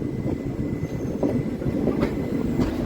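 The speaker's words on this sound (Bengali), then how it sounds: "প্রায় আধা ঘন্টার মতন দাঁড়িয়ে ছিল ট্রেনটা, এখানে সবে ছাড়লো।" A train departing Madhupur Junction in Bihar rumbles and clatters steadily along the tracks, a dense low rolling roar with faint metallic squeals, close by and with no talking.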